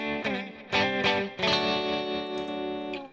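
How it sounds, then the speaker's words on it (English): An electric guitar plays a clean tone through a Headrush amp modeler with reverb on, as a few struck notes ring into sustained chords, moderately loud with no talking. "So here's my clean sound."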